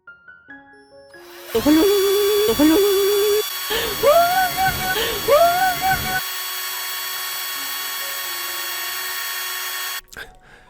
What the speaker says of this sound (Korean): 엉덩이에 구멍을 뚫고 지지대를 끼워줬어요.